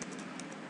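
Fast typing on a computer keyboard, a quick run of light clicks close by over a low background hum, with no talking.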